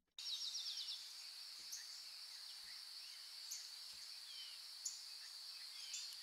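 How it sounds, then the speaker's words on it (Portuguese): Soft forest ambience with birds chirping and twittering in a steady high layer, plus a few faint isolated calls and insect buzz, quiet and continuous over near silence, mixed into a lo-fi R&B track. "também um sonzinho de floresta, de passarinhos aqui, para dar uma ambiência gostosa para a música"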